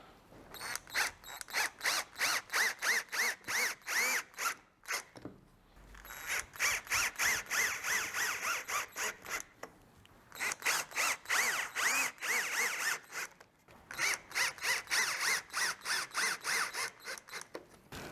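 Power drill driving four screws into a storage unit, close and clicking in rapid rhythmic bursts, with short pauses between each screw and no talking.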